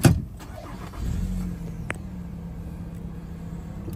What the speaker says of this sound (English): I'm just going to start the vehicle up.